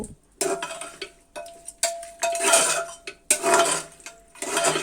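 Goat meat being worked together with spices in a pot makes intermittent scraping, clinking and squelching bursts from a metal utensil, close and fairly loud, with no talking.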